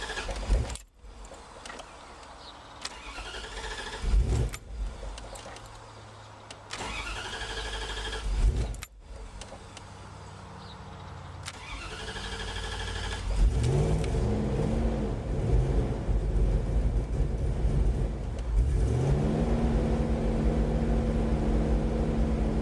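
A woodgas-powered engine cranks and starts up running without gasoline, with bursts of cranking, a few stumbling catches, and then a steady running drone that settles into a loud, continuous idle close by.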